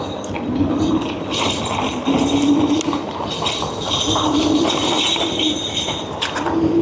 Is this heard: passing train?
yes